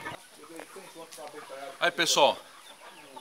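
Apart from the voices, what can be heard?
giant Indian chickens clucking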